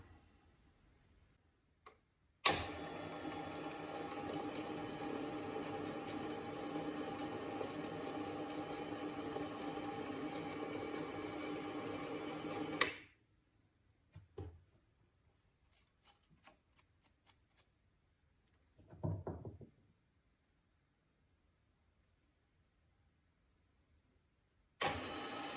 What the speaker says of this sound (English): And to move back, I'm just reversing the lathe.